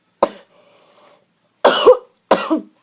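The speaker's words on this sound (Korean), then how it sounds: "잠깐만요. 기침 좀 하고요." Three sharp, close coughs from a man with a cold: one single cough, a pause, then two more in quick succession.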